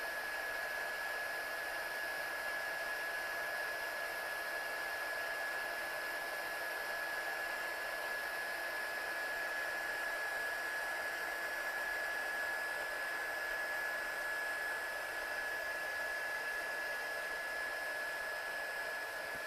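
A heat tool heat-sets a stamped paper collage picture, giving a steady, loud, continuous blowing hiss with a constant whine that runs unbroken for the whole stretch, with no talking.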